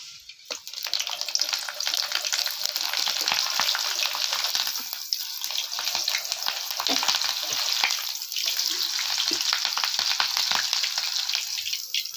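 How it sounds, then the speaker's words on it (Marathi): Green chillies fry in hot oil, a loud, dense, crackling sizzle that runs steadily and close throughout, with a few brief dips and spattering pops. "ह्या मिरच्या आपल्याला मी तळून घेते अशा मिरच्या तळायच्यात आपल्याला तेलातच"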